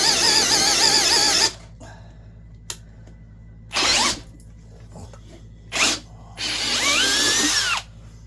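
A Hychika 20v brushless 1/2-inch hammer drill with a dull bit bores into lumber: a loud whining run, then short revving bursts and a final longer rising-and-falling spin, close by with no speech.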